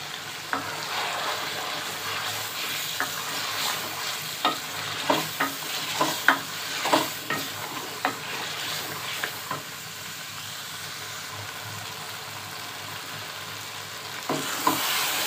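Chicken salan is fried and stirred in a pot until a gravy forms, a soft continuous sizzle and hiss punctuated by repeated scraping and knocking strokes of a spoon, close and unaccompanied.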